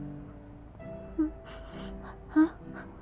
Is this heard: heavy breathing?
yes